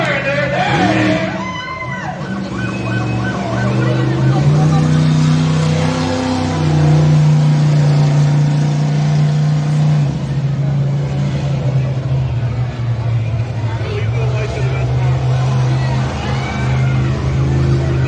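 Monster truck engine roaring and revving steadily during a freestyle run at a 4 wheel jamboree, loud and sustained, with an announcer talking over it and crowd noise behind.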